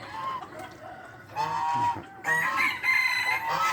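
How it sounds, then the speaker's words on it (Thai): Free-range chickens cluck and call close by, with overlapping squawky voices and a short crowing note, busy and fairly loud throughout. "เป็นชุดไก่ที่ปล่อยนะครับ"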